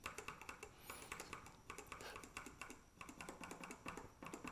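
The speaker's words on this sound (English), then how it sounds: "Next, we have the Cherry Speed Silver, which is a soft linear 45 CN actuation." Keystrokes on Cherry MX Speed Silver soft linear switches, typed in rapid bursts as dense, rhythmic clacking, close up with no voices.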